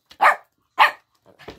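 Dogs at home bark nearby: two sharp, loud barks about half a second apart, then a softer, shorter yap.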